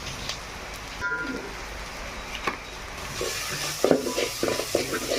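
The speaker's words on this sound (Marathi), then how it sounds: "आपण त्याच्यामध्ये आपला गोडा मसाला जो वाटण तयार केला होता ना तो आपण टाकून घेतोय आणि परत एकदा आपण याला व्यवस्थित परतून घ्यायचं आहे" Goda masala paste stir-fried in a pan for crab curry, with a soft sizzle and spatula scrapes that grow busier and louder toward the end, heard close with light background noise.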